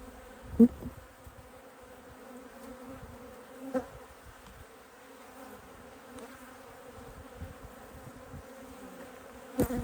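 Honey bees hum around an open hive on an October morning, a steady low drone with a few louder passes as individual bees fly close to the microphone.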